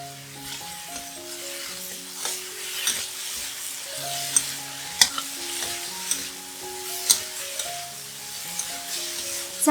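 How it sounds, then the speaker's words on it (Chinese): Vegetarian meat shreds stir-fried in a wok with salt, pepper, soy sauce and vegetarian oyster sauce, a constant sizzle broken by sharp spatula scrapes and clacks against the pan, with soft music playing underneath. "素蚝油，炒均匀。"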